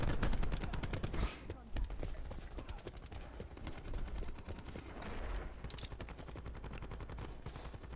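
Rapid pistol gunfire in Call of Duty Black Ops 4, dense fast-repeating shots running loud and continuous through the whole stretch with a busy game soundscape beneath.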